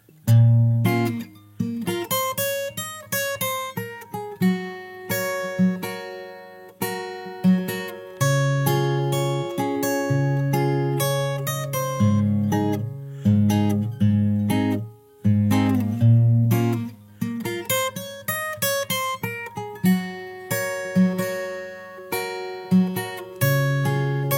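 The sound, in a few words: guitar playing the verse chords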